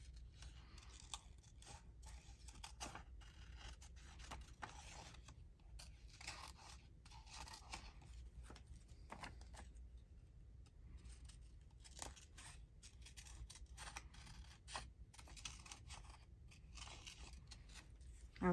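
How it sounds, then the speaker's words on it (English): Soft, close snips of scissors cutting paper, repeating steadily with light scraping and paper rustle, no voices. "we'll use these scissors"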